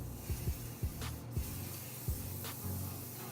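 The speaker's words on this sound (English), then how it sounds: "So you just shake it a bit and spray in your head." Short hissing bursts from an aerosol hair sheen spray, several quick puffs in an uneven rhythm, close and fairly quiet.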